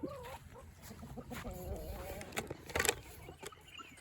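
Young chickens cluck and cheep in a coop with short chirps and low clucks scattered over a few seconds, close and fairly quiet, with faint background noise.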